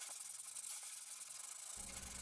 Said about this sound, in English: Lightly sand with 120 grit sandpaper